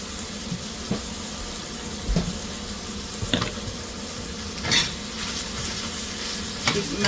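Butter melts in a hot pan with a continuous soft sizzle while a utensil stirs and scrapes it at irregular intervals, close and moderately loud with no talking.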